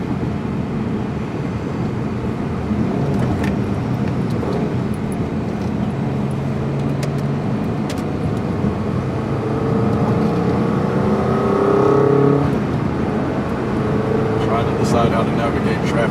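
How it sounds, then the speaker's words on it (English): Steady road noise fills the cabin of a Subaru Impreza 2.5RS while it drives, a constant broadband hum and rush that rises slightly near the end. "all you're going to hear is road noise"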